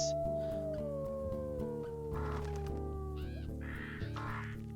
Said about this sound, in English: We're also gonna howl and mark our carcass.